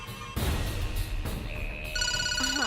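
A mobile phone plays a ringtone, a loud close electronic melody of bright repeating tones that starts partway through and continues to the end.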